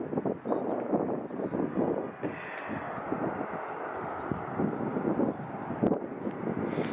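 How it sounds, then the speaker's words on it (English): Airbus A321 arriving on runway 16 left at Salt Lake City International Airport, heard from outside as a steady broadband engine roar with gusty wind buffeting the microphone throughout. "So we're looking at the planes arriving onto runway 16 left. Here we've got an Airbus A321."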